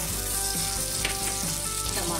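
Cumin and fenugreek seeds, spices and onion fry in hot oil in a pan for restaurant-style dal fry, giving a loud, close, continuous sizzle and crackle with a little stirring.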